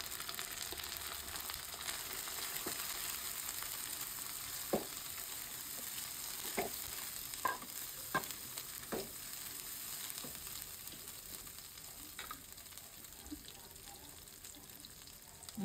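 Shing fish roe frying in a hot pan, a steady oil sizzle running throughout with scattered brief pops and stirring scrapes, close and fairly loud with no talking.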